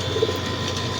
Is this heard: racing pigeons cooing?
yes